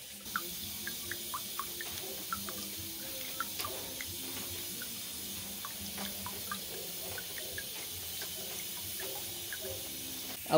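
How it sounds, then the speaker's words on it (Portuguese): Coconut water drains steadily from a coconut into a container, a continuous close trickle with faint small drips throughout, no talking. "Estamos tirando aqui a água do coco."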